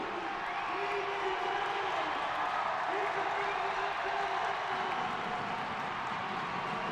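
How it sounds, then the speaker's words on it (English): A large indoor track crowd in Boston roars and cheers during a mile world record race, a constant loud wash of noise with a few rising whoops, while an announcer's voice talks over it. "Kejelcha feeling the crowd here in Boston"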